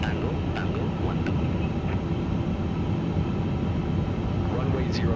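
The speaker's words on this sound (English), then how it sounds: "Let's taxi to the active." Steady jet engine drone of an Airbus A350 taxiing in Microsoft Flight Simulator 2024 at Hong Kong, a continuous low rumble with faint whine throughout, with no break in the sound.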